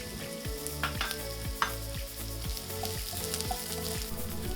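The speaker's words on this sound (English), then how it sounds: "Once the oil is hot, saute the onions until fragrant for about 1 minute." Onions sauté in hot avocado oil in a wok, giving a steady close sizzle and crackle of frying throughout, with occasional stirring clinks and no talking.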